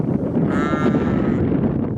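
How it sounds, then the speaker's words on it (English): Young lambs bleat loudly and close by in a field on a countryside walk, one long wavering call with a windy outdoor background. "Here's the little lambs out already."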